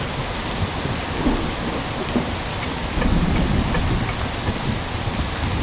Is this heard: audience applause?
no